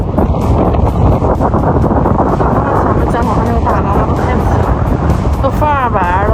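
Strong wind roars across a seashore at tide-gathering time, where people wade the shallows hunting sea cucumbers as the tide comes in; a loud, steady buffeting rush fills the whole stretch, with voices talking over it.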